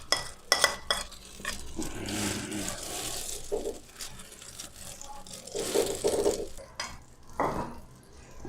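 Omelette egg mixture goes into hot ghee in a pan, with a soft sizzle under clattering utensil scrapes and knocks against the pan, coming in irregular bursts.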